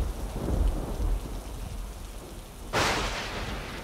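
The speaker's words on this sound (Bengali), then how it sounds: "বৃষ্টি শুরু হয়ে গেল" Rain begins to fall with thunder, a low rumble early on and then a sudden burst of heavy rain hiss that continues loudly to the end, with no voices.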